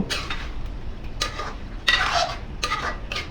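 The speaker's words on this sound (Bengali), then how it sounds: "এখন আমি আবার ঢাকনা উঠাই এখন আমি ফের নাড়াচাড়া করে দেব" Engar dal being stirred in a pot on the stove, a spoon scraping and clinking against the metal in a few short, irregular bursts, fairly quiet, with faint cooking noise between strokes and no talk.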